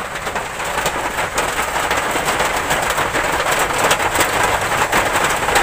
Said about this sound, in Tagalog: Ayan, tag-ulan na naman, oh.